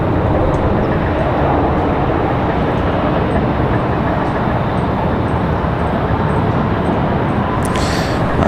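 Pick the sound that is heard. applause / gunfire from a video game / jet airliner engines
jet airliner engines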